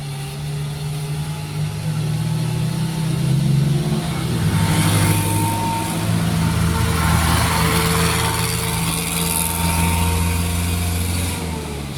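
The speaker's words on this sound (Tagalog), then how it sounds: "May mga dumadaan na sasakyan, tinitingnan nila ako." Cars pass by on a road: engine hum swells and fades as vehicles approach and go past, with several passes over about twelve seconds, fairly close and loud, no talking.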